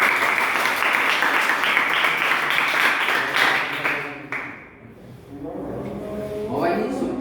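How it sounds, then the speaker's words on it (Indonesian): A classroom group applauds for group 3, a dense, steady patter of many hands clapping that dies away after about four seconds, followed by a voice starting to speak. "Aplaus untuk kelompok 3."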